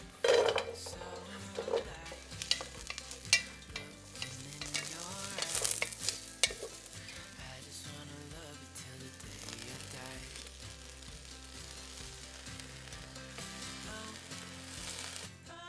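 Chopped onion sizzling and frying in olive oil in a pan, with steady crackle, stirring and occasional clinks of utensil against cookware, close and continuous.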